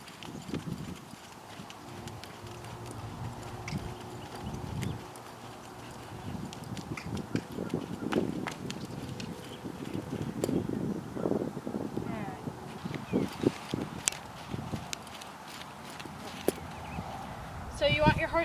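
A mustang being handled and conditioned walks and jogs, its hooves clip-clopping in a loose, uneven rhythm on the ground throughout, close by, with a person talking over the steps.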